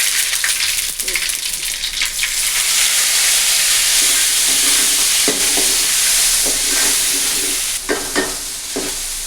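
Green chilies and ginger sautéing in a pan for a Tamil okra and lentil buttermilk curry, a steady bright sizzle running throughout with occasional sharper crackles and stirring scrapes, close and fairly loud, no talking.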